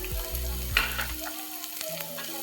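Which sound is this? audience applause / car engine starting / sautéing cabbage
sautéing cabbage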